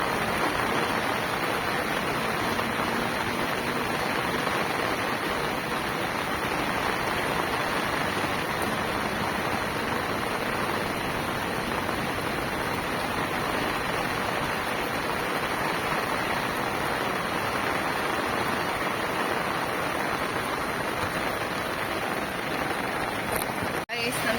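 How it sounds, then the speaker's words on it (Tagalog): Heavy rain pours over a rice farm during planting season, a dense, constant hiss that stays loud and unbroken throughout. "sobrang ulan ngayon"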